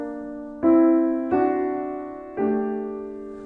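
Solo piano playing the opening of Ginastera's Prelude No. 4 "Vidala" from the Doce Preludios Americanos, three sustained chords doubled in thirds struck at a slow, even pace, each ringing out and decaying.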